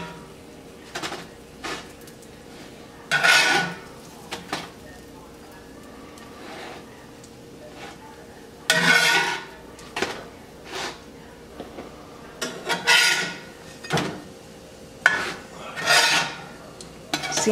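Homemade English muffins flipped in a pan, giving scattered scraping and clattering bursts of a spatula against the pan, separated by quieter stretches with a voice talking.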